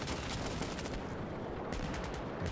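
Gunfire in the video game Insurgency Sandstorm, rapid bursts of shots crackling fairly faintly and continuously throughout, with no talking.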